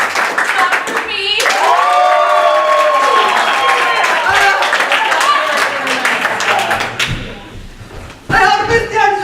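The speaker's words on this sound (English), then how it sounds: "Clap for me." An improv comedy audience at a small theater claps and cheers in a lively burst, with voices shouting and laughing over the applause and a few thumps mixed in.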